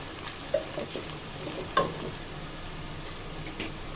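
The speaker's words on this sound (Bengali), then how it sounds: "পেঁয়াজটাকে একটু ভেজে নিব।" Chopped onion frying in mustard oil, a constant soft sizzle with a few light stirring taps spread through it.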